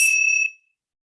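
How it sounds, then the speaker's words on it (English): A single bright bell tone rings clear and close, then fades quickly into silence, alone with no voices. "let's just clear the air with some nice bell tones"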